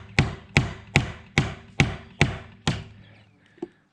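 Regular shingle nails are hammered into wood in a saloon build, seven sharp, evenly spaced blows ringing out close by, followed by a pause and one lighter final tap.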